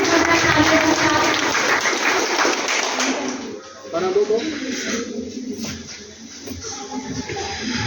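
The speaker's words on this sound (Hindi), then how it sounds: "एक बार जोरदार तालियों के साथ।" Loud applause from an audience at a college NSS cultural event, strongest at first and thinning out, with people talking over it as it fades.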